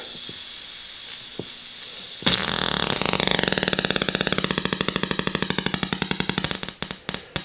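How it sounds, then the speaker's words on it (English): Electric guitar through a Devi Ever Rocket Mangler fuzz pedal: after a quiet hiss, a loud fuzzed note bursts in and breaks into rapid, glitchy clicking pulses that gradually slow and sputter out into separate stuttering clicks. "Some more glitchy kind of clicking"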